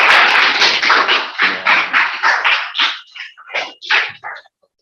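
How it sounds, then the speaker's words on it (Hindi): A few students in a classroom clapping their hands in a loose series of sharp bursts, loud and close at first, then thinning into scattered, uneven claps that stop. "अब ताली बजा के दिखाओ।"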